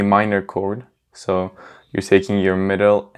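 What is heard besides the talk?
None of the usual background noises is heard.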